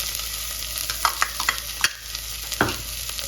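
Carrot, capsicum and cabbage fry in hot oil for a restaurant-style vegetable manchow soup, a steady close sizzle broken by several sharp scraping stirs of a spoon against the pan, with no voices.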